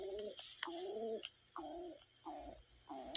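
A pigeon coos softly in a series of four or five short, rounded calls with brief pauses between them, close and quiet with no talking over it.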